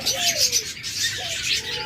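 Doves, likely hybrid or ghughu pairs among caged birds for sale, give soft repeated coos and a few chirps amid a bright, busy backdrop of other birds calling nearby.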